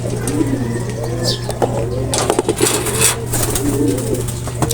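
Racing pigeons just back from a hard race coo nearby in low, throaty bursts amid a steady background hum and scattered rustling, with some faint voices in the distance.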